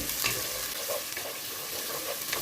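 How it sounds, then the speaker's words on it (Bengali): Chopped onion frying in hot oil with cumin seeds and bay leaves, a dense close sizzle with occasional stirring scrapes, steady throughout with no talk. "গোটা জিরা তেজপাতা দিয়ে দিলাম পেঁয়াজ কুচি"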